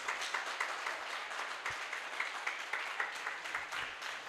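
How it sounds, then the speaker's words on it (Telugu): Worshippers at a Sunday church service clap for the Holy Spirit: a continuous soft patter of many hands, somewhat distant and even throughout, with no voices over it. "పరిశుద్ధాత్మ దేవుడికి గట్టిగా చప్పట్లు కొడదాము."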